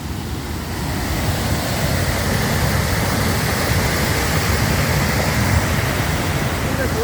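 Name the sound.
mudflow floodwater rushing through a channel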